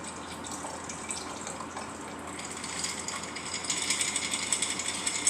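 A cocktail is poured from a shaker, liquid trickling and splashing with faint metallic clicks and rattles, building louder toward the end, close and alone.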